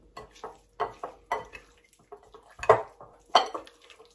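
Chicken thighs being mixed in a lime juice marinade inside a dish, with a series of soft wet squelches and light clinks from a utensil against the bowl, close and fairly quiet.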